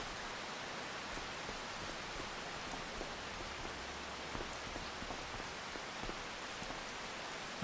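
A rainstorm falls in the Farming Simulator 25 video game: a faint, steady hiss of dense rain on surfaces with scattered drop patter, continuous and unbroken, no talking.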